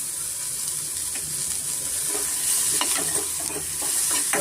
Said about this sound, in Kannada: ಮೀಡಿಯಮ್ ಫ್ಲೇಮಲ್ಲಿ ಸ್ವಲ್ಪ ನಾವು ಆನಿಯನ್ನ ಫ್ರೈ ಮಾಡ್ಕೊಳ್ಳೋಣ